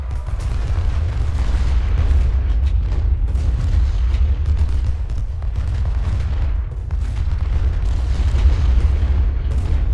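Cannon and artillery fire in Ultimate General: Civil War, a Civil War battle game, rumbling as a dense, continuous low boom with bursts layered throughout, steady and loud with no talking.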